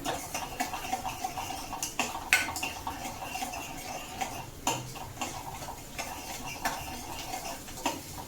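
Green chili halwa being stirred in a pan after sugar is added, with soft repeated ticking and scraping of a spoon against the pan in an irregular rhythm, close but quiet, with no talking.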